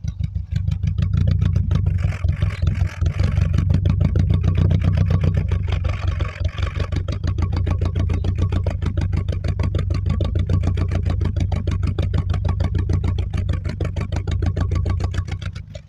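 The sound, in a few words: Volkswagen Golf 1 engine idling, recorded at the exhaust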